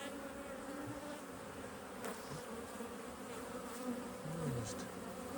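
Honey bees buzz around opened nuc hives in a beeyard, a steady, quiet swarm hum with individual insects droning past now and then.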